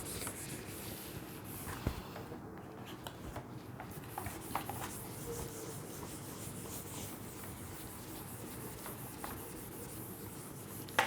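A whiteboard is erased in a classroom-style lesson with soft, continuous rubbing and brushing strokes and a few light taps, fairly faint and close, with no speech.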